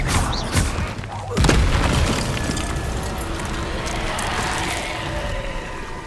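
A Confringo fire spell explosion in Hogwarts Legacy lands with a heavy boom and splintering crash, followed by a lingering rumble under game sounds, with a voice calling out spells.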